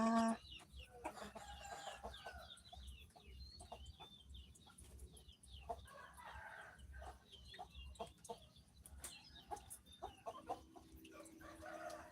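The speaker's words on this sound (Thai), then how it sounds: "มาดูไก่นะคะ" Domestic village chickens at a coop in rural Buriram, Thailand: steady clucking from several hens, with close and distant calls overlapping over a low background murmur, and a rooster crowing at moments.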